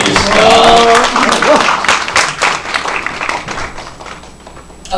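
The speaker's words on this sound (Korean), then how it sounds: "큰 박수" Crowd at a political book launch event in Changwon applauding a guest onto the stage, loud clapping that gradually fades while a voice speaks over it at the start.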